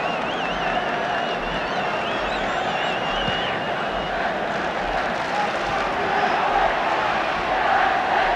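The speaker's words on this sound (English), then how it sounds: "The crowd now beginning to get behind United." A football crowd at a Manchester United versus Derby County match roars and chants for United, a broad, sustained wash of many voices with whistles and rising cheers throughout.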